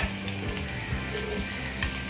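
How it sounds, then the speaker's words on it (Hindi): Onions dropped into hot oil on a tawa for chicken biryani, giving a steady close sizzle of frying with faint stirring scrapes throughout, no voices. "हमारा ऑयल अब गर्म हो चुका है। अब हम इसमें प्याज डालेंगे।"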